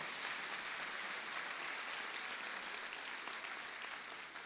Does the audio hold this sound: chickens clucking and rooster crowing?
no